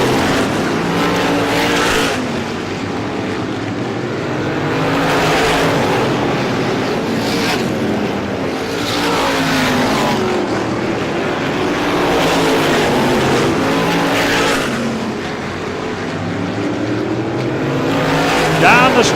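Race cars roar around the Star Speedway oval during the ISMA Classic 150, engines swelling and fading in waves as they pass, under continuous announcer commentary.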